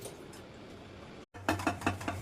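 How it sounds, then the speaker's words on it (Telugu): Dishes being scrubbed and clattered, with faint steady rubbing followed by a brief silence and then several close, sharp clinks and knocks of pots and utensils. "గిన్నెలు తోమితే ఎలా ఉంటుంది?"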